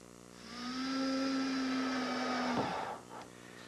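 A power driver whines steadily for about two seconds, ending in a short grinding burst, as 3/4-inch bronze screws go into a wooden boat's gunwale guard.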